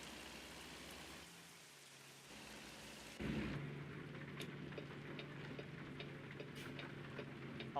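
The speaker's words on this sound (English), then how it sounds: "Not something we've had for a little while is rain." Rain falling in the trucking game American Truck Simulator during a drive through Montana, a steady hiss of rainfall over a low truck engine hum that grows louder partway through, with occasional sharp ticks and no talk.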